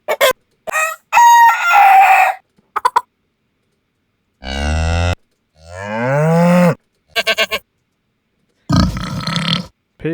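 Domestic animal sound effects from a library collection: a string of separate calls, with clucking chicken-like bursts mixed among lowing, moo-like cries and short grunts, each loud and close against silence.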